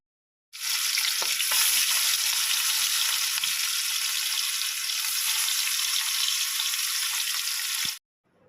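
Hilsa fish frying in a pan gives a loud, continuous sizzle and crackle for about seven seconds before it cuts off abruptly.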